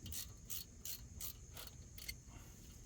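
An 8mm bolt on a Ford F150 front axle is snugged down with a socket ratchet, giving six or seven crisp, evenly spaced clicking bursts close by, with no talk.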